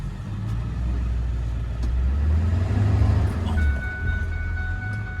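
A Honda ATC three-wheeler drives through a yard, a close, steady low engine rumble that swells slightly and then eases, with no talking.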